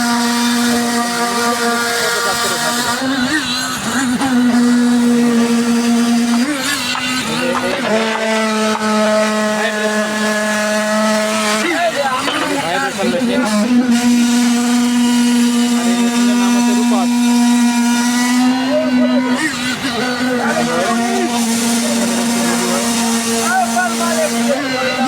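A Rupas goods-loading machine runs nonstop with a loud, steady droning engine hum, its pitch rising and falling a few times as the load shifts.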